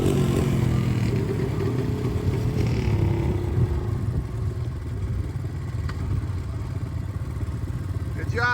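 A small motorized trike ridden by a child along a trail at a mini bike event, its engine droning steadily at moderate loudness with rattling clatter and a brief rev, while faint voices carry in the background.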